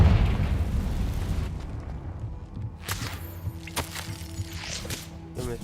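A Confringo explosion spell cast in Hogwarts Legacy, a booming burst fading into rumble, followed by several sharp crackling impacts.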